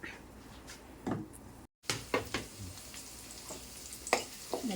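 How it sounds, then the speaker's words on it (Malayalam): Green chillies and garlic sauté in hot oil in a pan, with a low continuous sizzle and a few louder stirring scrapes and clatters close by. "ഞാൻ പച്ചമുളകും വെളുത്തുള്ളിയും കൂടി ഇട്ട് നന്നായിട്ട് വഴറ്റുകയാണ്"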